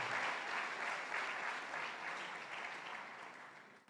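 Sustained audience applause at a youth day ceremony, steady dense clapping throughout that gradually tapers toward the end, with no voices over it.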